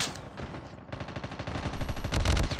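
Rapid automatic gunfire in a first-person shooter video game, sounding as dense, fast bursts of shots that grow louder toward the end, with no talking.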